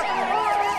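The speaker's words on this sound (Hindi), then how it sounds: "थोड़ी दूरी पर जाने के बाद इनको सुनाई देता है पुलिस का सायरन" A police siren wails in rapid repeating sweeps, loud and close, cycling up and down about three times in under a second.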